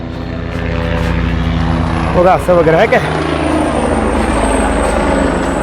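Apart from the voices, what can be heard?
helicopter flying low at Kedarnath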